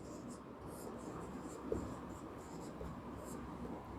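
Faint scratching of writing on a board during a Sanskrit grammar class, with steady strokes and small taps against a quiet room background.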